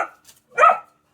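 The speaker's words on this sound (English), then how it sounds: "My dogs are back. They're saying it's time to stop." A couple of dogs give short barks, a brief yip followed by one louder, close bark, in an otherwise quiet room.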